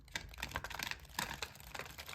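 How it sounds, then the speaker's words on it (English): Tarot cards being shuffled by hand, a quick run of crisp, dense riffling clicks and slaps that keeps on with brief surges, close and fairly quiet, with no talking. "I'm trying to shuffle these cards here"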